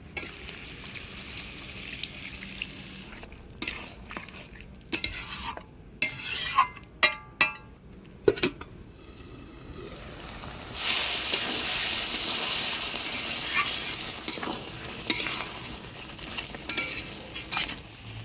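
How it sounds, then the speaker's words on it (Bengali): Goat mutton curry is stirred with spices in a pan: a series of sharp spoon scrapes and clacks against the metal over a continuous frying sizzle that swells into a steady hiss midway. "মাংসটা মশলা দিয়ে ভালো করে নাড়াচাড়া করে মশলার সাথে মাংসটা ভালোভাবে নাড়াচাড়া করে নিলাম"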